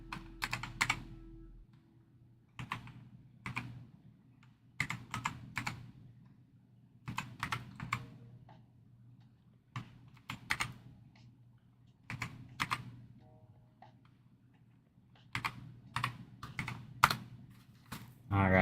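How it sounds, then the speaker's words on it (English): Someone types slowly on a computer keyboard while installing an old Windows Longhorn build on real hardware, close-up key clicks arriving in short irregular bursts separated by pauses. "Sorry, I can't really see my keyboard, so I'm typing really slow."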